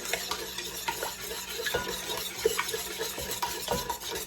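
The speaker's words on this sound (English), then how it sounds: "Now I'm gonna get my whisk, and we're going to mix this in right here." A whisk scrapes and taps steadily around a bowl, mixing caramel rum cake batter in a home kitchen, with soft rhythmic clinks and swishes, close and fairly quiet.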